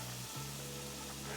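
Shrimp fry in a pan under a soft, continuous sizzle with a steady background hum that briefly shifts pitch.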